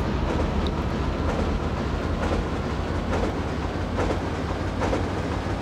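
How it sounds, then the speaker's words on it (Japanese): A train runs in the video game Resident Evil 3, its steady low rumble continuous throughout with faint periodic clacks, fairly loud and alone. "あ、でも音は電車やな。"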